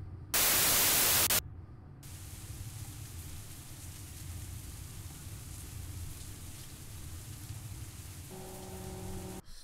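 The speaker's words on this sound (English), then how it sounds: "Still raining." Steady video-game rain hisses over a low rumble after a brief burst of harsh static, with a soft electronic tone entering near the end.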